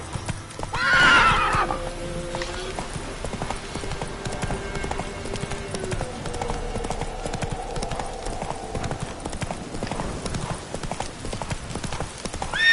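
A horse in The Witcher 3 whinnies loudly near the start, then clip-clop hoofbeats carry on steadily at a gallop under game music and ambience, with brief spoken commands to the horse.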